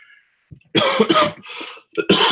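A series of harsh, close coughs, three or four bursts in quick succession after a brief faint sound, with no talking.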